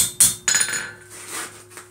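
Hammer blows strike metal held in a vice as a piece is straightened, two sharp ringing clanks followed by a softer scraping rustle, close and fairly loud with no talking.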